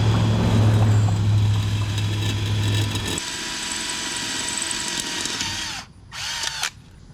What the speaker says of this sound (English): Drilled it through.